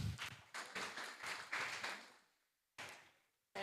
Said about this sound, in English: Give applause to Prof.